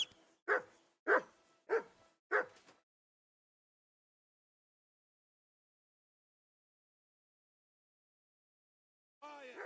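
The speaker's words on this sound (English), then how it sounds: "Whistle at that mutt of yours to stop barking!" In Kingdom Come: Deliverance 2, a dog lets out four quick barks in a row, then falls silent for several seconds before a single whining bark starts up at the end.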